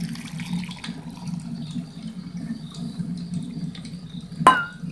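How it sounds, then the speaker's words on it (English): Water running and trickling into a pot for coffee at a campsite, a steady low splashing flow throughout with a brief sharp clink near the end. "Let's get this coffee water going."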